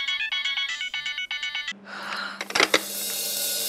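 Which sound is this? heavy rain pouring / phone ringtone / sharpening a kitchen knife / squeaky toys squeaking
phone ringtone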